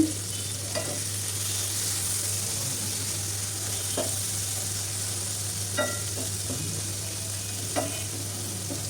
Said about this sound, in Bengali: ভুনা করতে থাকব চিংড়ি মাছ